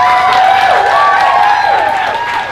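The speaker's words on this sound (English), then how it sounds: "Give a big round of applause to everybody that came up here and told their truth tonight." Applause from the audience at a live poetry show, steady and loud clapping mixed with cheers and whoops, all of it nearby and carrying on without a break.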